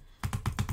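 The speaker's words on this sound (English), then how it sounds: "I have two fingers on one side of the mouse. And I just rapidly hit them up and down like a butterfly wing." Rapid clicking on a Glorious Model O computer mouse, five quick, evenly spaced, close-up clicks played back to back in a steady burst.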